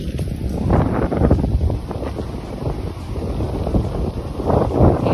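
A steady breeze buffets the microphone on Upham Beach, Florida, a continuous low roaring rush of wind with gusts swelling and easing, fairly loud and close with no talking.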